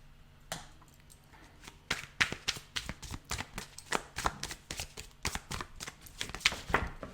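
Tarot cards are shuffled close up in a rapid, uneven run of crisp riffling snaps and slaps that goes on for several seconds with no talking over it.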